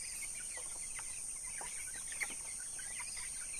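Backyard free-range organic chickens cluck softly in a quiet, distant setting: scattered short calls with a steady high insect-like whine running behind them and no talking.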